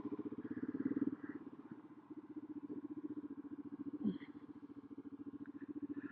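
A 1999 BMW F650GS motorcycle engine runs steadily at idle, an even, rapid thumping pulse that stays smooth without sputtering, heard close and moderately loud throughout.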